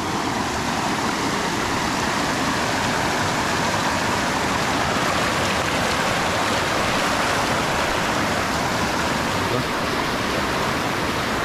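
Cold mountain water rushes steadily through an irrigation channel, past a barrier built to deepen the flow, toward rice fields, a loud, unbroken gushing that stays constant throughout.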